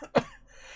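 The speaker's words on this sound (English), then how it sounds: "I'm sitting here coughing my guts out" A man gives a single short, harsh cough, close and loud, with quiet room tone around it.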